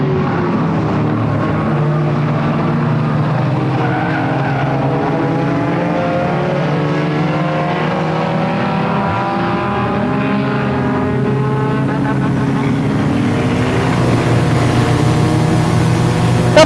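Race cars circle Flamboro Speedway during the Halloween Enduro 100, a continuous loud engine drone with rising and falling pitch as the cars pass, no speech heard.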